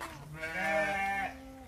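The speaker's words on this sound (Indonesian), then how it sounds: "di sini ada kambing-kambing dan ada domba-dombanya" A single drawn-out, wavering bleat from an animal in a pen holding both goats and sheep, fairly close and clear, lasting about a second with no talk over it.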